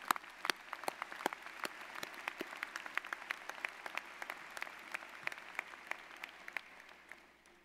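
Sustained audience applause at a UMass Lowell graduate commencement ceremony, many hands clapping steadily in a large hall, fairly even in density and fading slightly toward the end.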